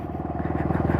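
A motorcycle engine idles close by after an accident, its rapid, even firing pulses repeating steadily and growing slightly louder over a brief moment.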